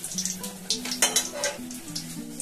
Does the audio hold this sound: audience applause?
no